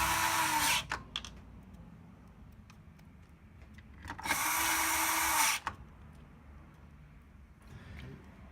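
A small electric screwdriver drives Torx T10 screws back into the case of a TiVo Series3 HD recorder, in two whirring runs of about a second each, close and fairly loud against a quiet room.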